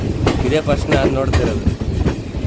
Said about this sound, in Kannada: ಯಶವಂತಪುರ ಸಿಂಧನೂರು ಮತ್ತು ಬಸವ ಎಕ್ಸ್ಪ್ರೆಸ್ ಎರಡು ಪ್ಯಾರಲಲ್ಲಾಗಿ ಹೋಗ್ತಾ ಇದ್ದಾವೆ